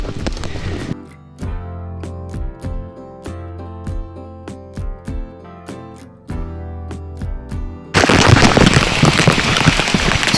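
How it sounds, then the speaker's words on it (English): Heavy monsoon rain pours through a forest on a Western Ghats trek, turning into a loud, dense wash of broadband noise for the final seconds after a stretch of sharp, regular tapping sounds. "It's pouring now."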